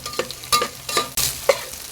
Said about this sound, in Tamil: நீங்கள் இது மாதிரி வெங்காயத்தோடு சேர்த்து அதை வதக்கிடும்போது